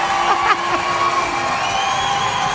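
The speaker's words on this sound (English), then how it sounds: "The crowd pop is unreal." A hockey crowd at a Prowlers vs Sentinels game erupts after the referee's call, with loud sustained cheering and whoops, some higher shouted voices standing out early before the roar settles into a steady din.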